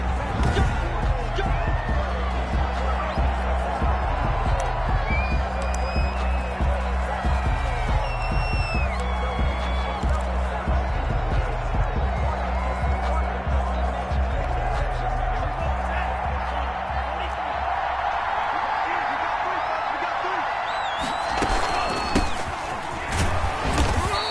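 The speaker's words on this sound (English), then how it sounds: "This crowd is ready as their guys get set to match up between the Buffalo Bills and the Jacksonville Jaguars." Simulated stadium crowd in a PS4 football game, Buffalo Bills against Jacksonville Jaguars, rumbling continuously with cheers and whoops, thuds of play and sporadic sharp accents, under a commentator's voice.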